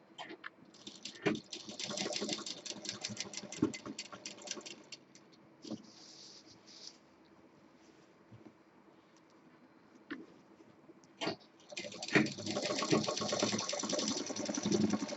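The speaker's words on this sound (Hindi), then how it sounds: "इस तरह से सिलाई करने पे जो हैंडल है उस पर भी कई मशीनें चल जाएंगी तो मजबूत हो जाएगा" A sewing machine stitches a round Rajasthani cloth bag, its needle chattering in fast bursts that stop and restart, with quieter pauses and small clicks as the fabric is turned.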